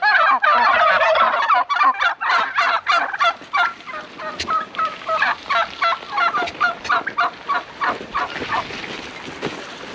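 A flock of turkeys gobbles loudly and repeatedly nearby, their rapid, overlapping calls running almost without a break.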